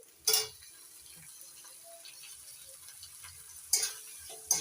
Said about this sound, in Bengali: টমেটো কুচি দিয়ে নাড়াচাড়া করে নিচ্ছি